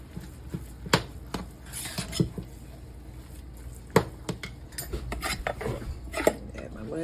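A utensil scrapes and clinks against a pan while chopped broccoli is stirred, sharp irregular taps and rattles repeating close by over a quiet background.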